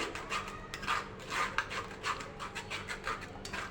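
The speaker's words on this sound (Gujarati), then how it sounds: "ટામેટાની છાલ હોય ટામેટાના બીજ હોય તે આવી રીતે ગળાઈ જશે આપણે આવી રીતે દબાવીને" Tomato pulp with skins and seeds pressed through a strainer for homemade ketchup, a soft rhythmic scraping and rubbing repeated in short strokes, close and fairly quiet.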